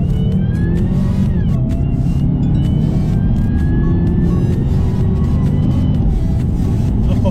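A sedan with Brembo brakes accelerates hard, its engine a loud, close, continuous roar with rising pitch as it pulls through the gears, no talk over it.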